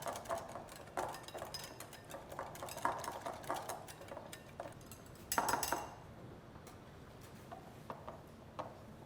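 A whisk or spoon clinks and scrapes steadily against a bowl while crepe Suzette batter with orange zest is stirred, close and busy with brief louder knocks, no voices.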